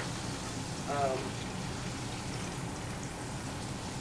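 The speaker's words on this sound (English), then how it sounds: "because it's frying, it's not going to take that long" A faint, steady sizzling hiss of food frying in a pan continues throughout.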